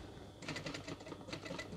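A sewing machine stitches piping onto a zipped decorative scatter cushion, starting after a short quiet moment and then running in a steady, rapid mechanical chatter that stays close and fairly quiet throughout.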